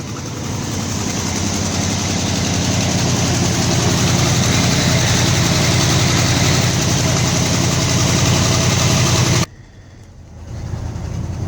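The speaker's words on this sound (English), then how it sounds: "Alright, let's get the choke on. Okay. This is a cold start." A 1970 Ford F250 farm truck engine runs cold on choke in a loud, steady, low idle close by, then the sound abruptly drops away near the end.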